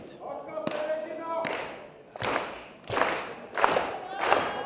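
Professional wrestling crowd at an event in Helsinki, Finland: swelling waves of cheering and rhythmic clapping with repeated heavy thuds from the ring, loud and close, under a commentator's speech.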